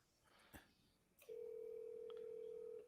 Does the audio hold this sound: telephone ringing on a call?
yes